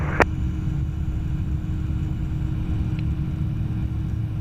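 A small airplane's engine drones low and steady in the cabin during the takeoff roll on a windy day, with a faint click or two over the rumble.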